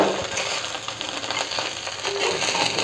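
A burnt ghavan, a rice crepe, is scraped off a hot iron pan with the gas turned low. The gritty scraping and sizzle run steady and close for the whole stretch, with no talk.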